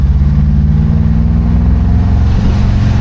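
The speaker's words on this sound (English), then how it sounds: "Motor sounds strong." A 1969 Buick Skylark's engine accelerates while driving, a loud deep continuous rumble with a steady low throb that shifts slightly in pitch near the end, with no talking.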